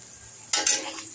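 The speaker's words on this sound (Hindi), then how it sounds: "तो हम लोग इसको पहले फ्राई कर लेते हैं, अनियंस और ये गरम मसाले और रेड चिली सभी को हम लोग" Onions with whole spices and red chilli fry in a pan for chicken curry, a low steady hiss breaking into a brief, loud surge of sizzling as the mixture is stirred, then settling again.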